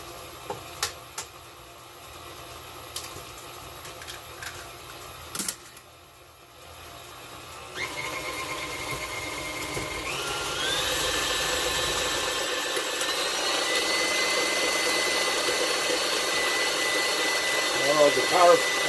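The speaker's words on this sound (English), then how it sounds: "The power of a high-speed mixer." A high-speed electric mixer beats cookie dough with eggs, starting after some small kitchen clatter and spinning up into a loud, steady whine that climbs in pitch and holds.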